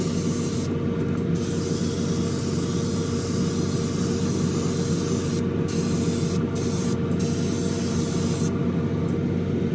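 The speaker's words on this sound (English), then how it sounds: "Putting out a lot of clear coat." An airbrush spray gun with its trigger fully open lays a wet clear coat on an Alpha Models Ferrari SF90 Spider scale model, giving a loud, continuous hiss with a few brief breaks.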